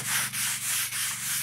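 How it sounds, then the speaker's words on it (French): A stiff brush scrubs the stone of an old public wash basin in steady back-and-forth strokes, about five rasping passes, close and fairly loud. "Une brosse sur la pierre du lavoir."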